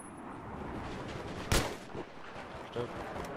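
A few sharp, punchy Battlefield 3 video game gunshot bursts ring out over a steady low background, spaced unevenly with one loudest crack near the middle.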